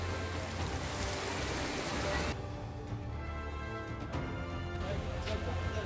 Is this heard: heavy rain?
yes